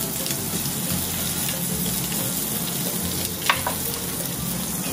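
Oyster steak sizzles steadily in a hot pan, a dense continuous frying hiss with faint crackles and one brief clink near the end, close and loud with no talking.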